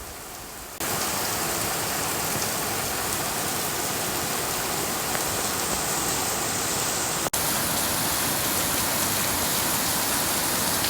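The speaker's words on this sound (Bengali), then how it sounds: "জাস্ট আপনারা একটু বৃষ্টির শব্দটা শোনেন।" Heavy downpour at night, a steady dense roar of rain beginning abruptly after a short quiet moment and continuing loud and unbroken, with one brief sharp click partway through.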